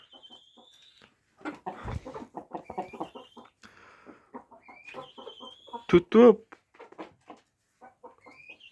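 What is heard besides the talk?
chickens clucking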